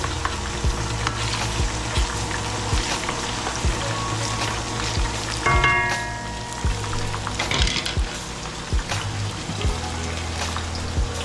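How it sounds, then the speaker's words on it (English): Scotch bonnet pepper sautés in a pan while saltfish is being cooked. A steady, close sizzle runs throughout, broken by scraping and clinking stirs, with no voices. "Scotch bonnet pepper guys. saute it for a little bit."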